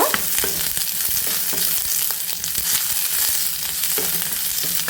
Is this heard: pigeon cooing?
no